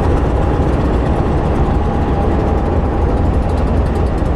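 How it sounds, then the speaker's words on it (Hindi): Several diesel locomotives coupled together to haul a passenger train toward Quetta through high mountains, giving a loud, steady, deep engine rumble that continues unbroken throughout, with no talking. "ये डबल इंजन लग गया है।"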